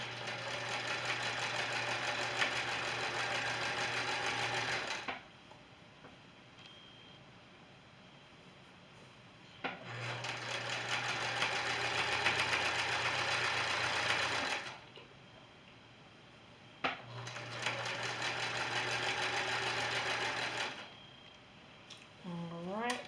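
A sewing machine stitches fat quarter fabric into a quilted scarf in three long runs of about five seconds each, separated by quiet pauses with faint handling sounds, close and steady.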